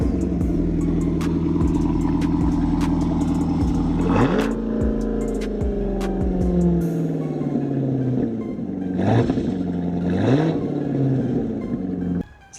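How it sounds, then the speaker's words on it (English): A 2019 Chevrolet Corvette fitted with a Corsa Extreme exhaust and cross pipes idles with a deep, loud rumble, then rises in a sharp rev, settles, and barks out two more quick throttle blips before cutting off, heard close. "We installed the Corsa Extreme exhaust system on this with the cross pipes. It sounds absolutely incredible."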